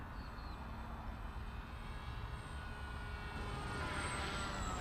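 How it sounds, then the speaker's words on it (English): Steady engine drone of an X-UAV Mini Talon RC plane flying overhead, a continuous even hum that swells slightly toward the end, with no voices. "Mini Talon is a seriously good plane."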